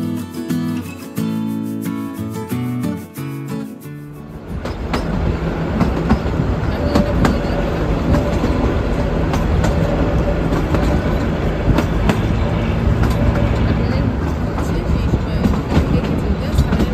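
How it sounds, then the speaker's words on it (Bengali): The Shivalik toy train from Kalka to Shimla runs on its narrow-gauge line: after a few seconds of a different, tonal sound, a loud, steady rolling rumble with wheel clatter fills the rest. "সিমলাতে এই টয় ট্রেনটায় করে এসেছি। এটা 5:45 শিবালিক, যেটা ছাড়ে কালকা থেকে।"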